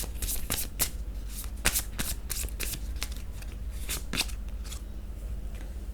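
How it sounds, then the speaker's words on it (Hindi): Tarot cards being shuffled by hand in a quiet room, a run of crisp riffling bursts and soft slaps spaced irregularly across the stretch, close and moderately loud with no talk. "जब तक मैं कार्ड शफल करूँ"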